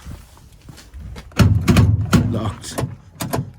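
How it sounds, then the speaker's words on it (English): Central locking on a Ford Transit van with a locking fault clunks through several quick mechanical thunks in a short cluster, heard up close with some faint background voice. "What I am noticing is that when I lock it, the door is locked."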